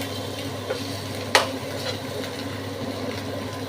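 Fish oil fries in a pan, making a steady close sizzle with a few soft stirring scrapes and one sharp knock.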